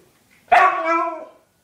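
A Siberian husky gives one drawn-out, yodel-like howl-bark at food time, starting sharply and bending in pitch for about a second, loud and close, alone after near silence.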